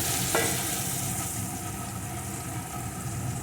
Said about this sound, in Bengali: আমি কিন্তু এখানে গরম জল দিয়ে দিলাম